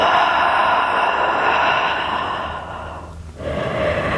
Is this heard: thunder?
no